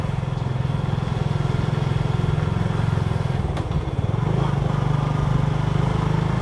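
A motorcycle climbs a steep slope toward a parish cemetery in Vietnam, its engine chugging loudly and continuously with a rapid, even throb that briefly dips before resuming.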